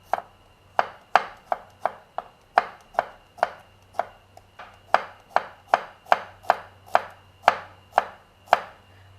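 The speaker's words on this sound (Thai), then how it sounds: "ก็แค่หั่นนะคะให้ชิ้นเท่าๆกันนะคะ นี่เลยหั่นบางๆ แบบนี้นะคะ" A sharp knife thinly slicing large garlic cloves on a cutting board: around twenty crisp, evenly spaced cuts in a steady rhythm, close and clear over a low background hum.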